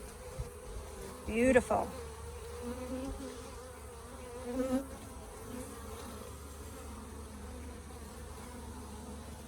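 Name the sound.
Africanized feral bees buzzing at hive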